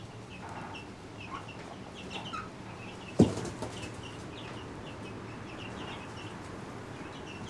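Wyandotte chickens in a backyard coop cluck and murmur softly at a moderate distance, with scattered short calls over a steady low background and one sharp knock partway through.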